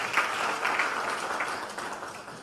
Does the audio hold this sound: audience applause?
yes